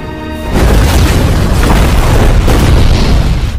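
A loud bomb explosion booms suddenly and fills the scene with a sustained, roaring low rumble that stays heavy to the end.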